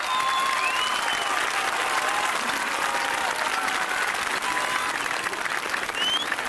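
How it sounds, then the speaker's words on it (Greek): Warm crowd applause at an outdoor rally at Pedion tou Areos in Athens: dense, continuous clapping from a large gathering, steady and loud, with faint whistles drifting through. "Ένα θερμό χειροκρότημα."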